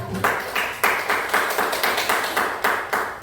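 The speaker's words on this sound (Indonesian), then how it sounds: "tepuk tangan dulu untuk kelompok" A classroom group applauding together after a presentation, a steady run of close, loud hand claps in quick even rhythm with occasional louder accents, no talk over it.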